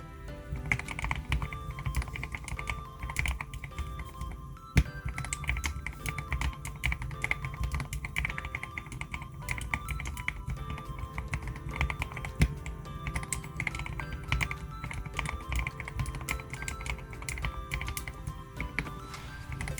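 Steady, fast typing on a mechanical keyboard with an acrylic case, a dense run of deep, rounded key clacks with a slightly muffled, thocky character, close up and continuous.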